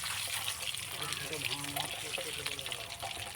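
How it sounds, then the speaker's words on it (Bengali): Hard-boiled eggs rubbed with salt and turmeric fry in hot oil, a dense close sizzle and crackle running throughout, with someone talking over it. "তো বন্ধুরা দেখো, ডিমগুলো সুন্দর করে ভেজে নিচ্ছে।"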